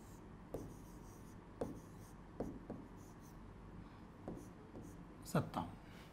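Chalk or marker taps and scratches out numbers on a board in short separate strokes, fairly faint against a steady room hum, with no voice during the writing.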